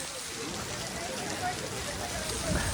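Heavy rain pours near Jog Falls, a dense, steady hiss of drops close by that holds evenly through the whole short stretch with no clear voices.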